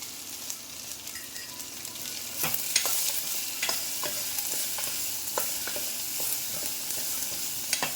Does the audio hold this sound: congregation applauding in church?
no